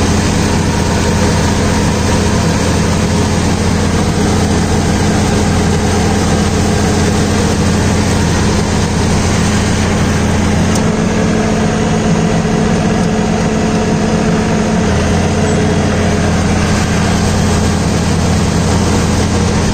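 An 80 HP Deutz Fahr Agromaxx tractor engine runs steadily throughout at a close, constant idle-like drone, with a slight shift in pitch midway and again near the end, during banana mulching work.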